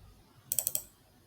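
Computer keys are struck in a quick burst of four or five crisp clacks within half a second, close and distinct against a quiet background.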